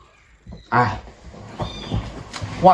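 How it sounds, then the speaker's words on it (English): Kittens in a house meow in a few short cries, one loud near call followed by fainter ones, with background household noise and a voice nearby. "The kittens that are in our house are driving our dogs crazy."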